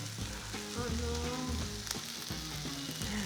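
Leftover rice cooks in hot oil in a pan, with a dense, steady sizzle and crackle up close and occasional stirring scrapes.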